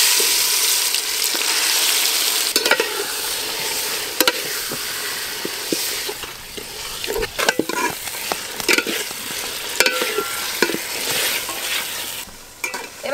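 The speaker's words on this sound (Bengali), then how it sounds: "মশলা মাখানো মাটন দেব এবার হাঁড়িতে।" Marinated mutton frying in a pot for biryani, with a steady loud sizzle and repeated scraping and clattering as the spoon stirs it, close up and with no talking.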